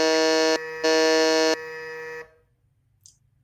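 A loud electronic quiz-show buzzer sounds in two long harsh tones separated by a brief gap, then cuts off into near silence with a tiny blip afterward.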